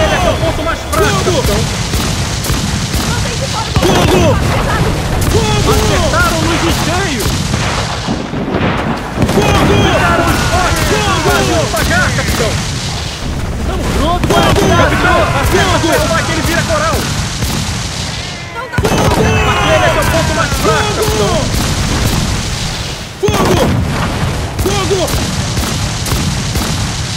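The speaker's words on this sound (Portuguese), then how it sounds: "olha os morteiros" Ship mortars and cannon booms in Assassin's Creed 4 Black Flag, a naval battle against a legendary ghost ship, heavy repeated blasts and rumbling fire throughout with someone talking over them.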